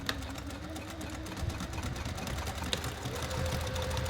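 A sewing machine runs steadily as it stitches back and forth along the seam of a double zip bag, a continuous close mechanical whir and chatter with no talk over it.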